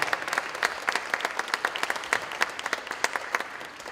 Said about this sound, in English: I want yourselves to give yourselves a big round of applause